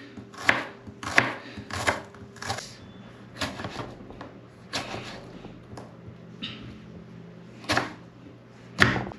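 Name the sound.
chopping tomato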